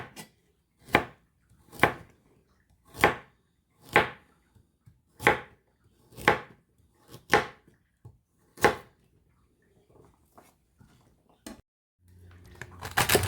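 A knife slices through carrots on a cutting board in about nine sharp, evenly spaced chops, close and distinct, followed by a few softer taps and a rising rustle at the end.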